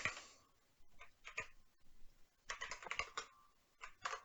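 Someone types code on a computer keyboard in short clustered bursts of crisp key clicks, separated by brief pauses. The clicks sound close and quiet, with no voices.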